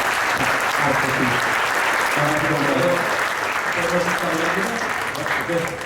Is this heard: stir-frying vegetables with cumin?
no